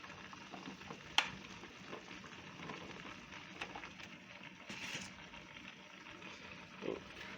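Vegetables and mushrooms simmering in a pan for a stir-fry, giving a faint, steady sizzle and bubbling with a few soft clinks and stirring sounds.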